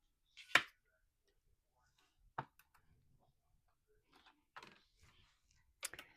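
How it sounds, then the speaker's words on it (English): A rubber stamp pressed down in a Misti stamping tool while making a card, giving a few sharp close taps and clacks spread apart with quiet gaps between them. "We're going to stamp it again."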